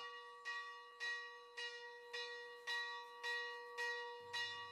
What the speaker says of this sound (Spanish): Campana de largada.